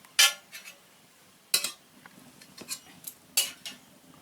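A hot karai being handled on a village kitchen stove while making chalta pickle: three sharp metallic clanks a second or so apart, with softer scrapes and knocks in between, close by and without talk.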